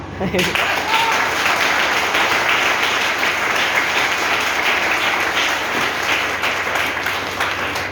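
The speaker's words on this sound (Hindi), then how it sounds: "तो ताली तो होना चाहिए बिना म्यूजिक का।" An audience at a Hindi motivational talk clapping with no music, a sustained, dense wave of applause from many people that starts abruptly and stays loud and even throughout, with faint voices mixed in.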